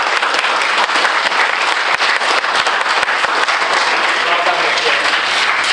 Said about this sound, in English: Ms. Cheever and Mrs. Cleary, so let's have a round of applause.